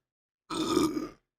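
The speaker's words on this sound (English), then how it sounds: "Excuse me, I'm trying to burp." A man lets out a single short, throaty burp, close and fairly quiet, lasting under a second and heard alone against silence during a casual podcast recording.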